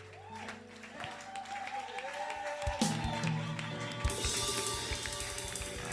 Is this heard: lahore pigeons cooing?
no